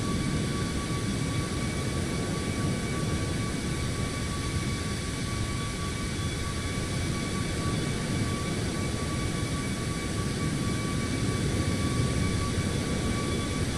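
An Alaska Airlines jet airliner flies from Anchorage to Fairbanks in Microsoft Flight Simulator 2024, giving a steady, loud cabin engine drone with a broad even roar and faint constant tonal whine, unchanging throughout with no talking.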